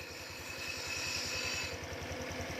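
A Honda Wave 110i motorcycle engine running quietly at a steady idle after repair, with a soft, even low thump and light mechanical ticking, alone and close.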